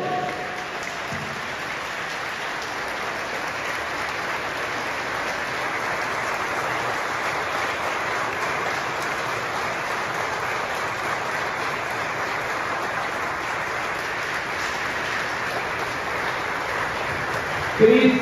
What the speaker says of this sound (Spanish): ponernos de pie y darle un fuerte aplauso a Jesús por su muerte.